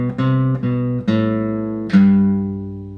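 A short run of plucked guitar notes, five in total, all on the 5th string, each ringing into the next, with the last note sustained and fading.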